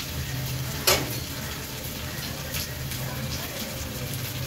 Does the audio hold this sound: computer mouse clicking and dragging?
no